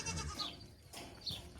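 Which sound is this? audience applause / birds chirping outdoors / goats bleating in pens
goats bleating in pens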